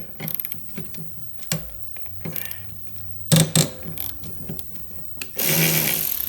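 Loosening a 12mm bolt on a Honda Harmony mower gives a string of close, sharp metallic ratchet clicks and clanks, then a louder rattling burst toward the end.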